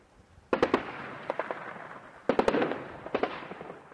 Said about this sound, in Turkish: Patlama üzerine hükümet tankları yaklaşıyor, ateş açıyor.